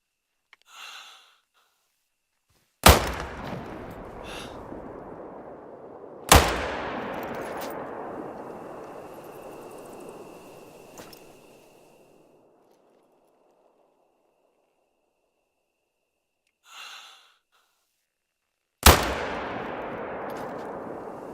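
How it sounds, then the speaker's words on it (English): Video game gunfire: a few single loud shots spaced several seconds apart, each ringing out in a long decaying echo, with faint breathy sounds between and no talk. "where was I shooting that, like, I didn't hit that boar?"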